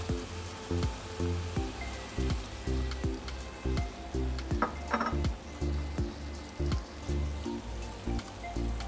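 Spicy chicken adobo sizzles steadily in a pan after soy sauce is added, with a rhythmic run of stirring scrapes and light clinks of a utensil against the pan throughout.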